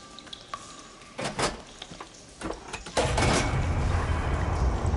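Valve machinery switches on water flow in Horizon Forbidden West: a few sharp metallic clanks and thuds, then a loud, steady rushing of water that starts abruptly and continues to the end, with no talk.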